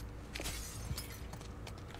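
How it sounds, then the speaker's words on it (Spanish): Footsteps crunch over broken glass in the video game The Last of Us Part II, a series of sharp crackling shatters at close range over a quiet background. "qué ruido estoy haciendo con los cristales"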